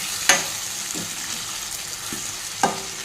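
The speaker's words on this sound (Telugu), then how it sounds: "ఈ ఆయిల్లో మంచిగా మటను ఫ్రై అవ్వాలన్నమాట" Mutton frying in a shallow layer of oil, a steady close sizzle with a few sharp spoon clicks against the pan, no voices.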